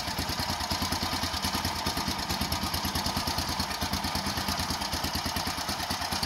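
A Doodle Bug scooter engine runs steadily at close range with a rapid, even putter, loud and continuous with no talking over it.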